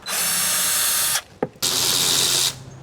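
A power tool whirs loudly while backing screws out of the glove box area of an Alfa Romeo Stelvio, in two long runs split by a short pause and a click.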